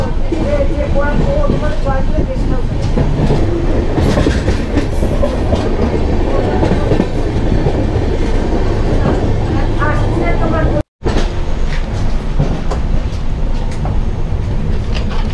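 Express train 18006 rolling on rails between Koraput and Rayagada, heard as a loud, steady rumble with rhythmic clickety-clack of wheels over rail joints throughout, a brief dropout near the end, and faint voices underneath.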